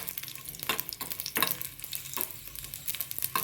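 Crushed garlic fries in a pan of hot oil with dried red chillies for a greens saaru, a steady sizzle broken by several sharp scraping stirs at a slow, uneven rhythm.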